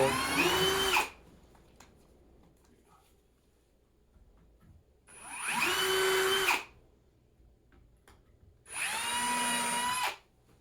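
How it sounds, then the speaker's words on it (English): Three separate bursts of a high-pitched whining power tool punching holes in sheet metal, each lasting about a second or more with quiet gaps between them, close and fairly loud. "this is one of the best ways I found to punch holes in metal"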